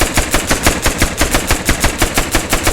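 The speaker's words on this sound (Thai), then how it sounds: "ก็เดี๋ยวผมจะทดสอบยิงทหารตรงนี้นะว่าจะตายไหม" A mounted turret fires at soldiers in a video game, a loud, rapid, evenly spaced burst of gunshots that runs without pause from start to finish.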